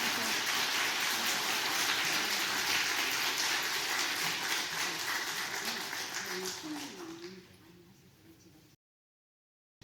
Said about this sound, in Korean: 우리 박수로 한번 감사합니다.